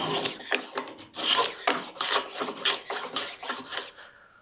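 A hand edge plane shaves a chamfer along a wooden edge, giving a series of short, rasping strokes in a steady back-and-forth rhythm, close and moderately loud with no talk.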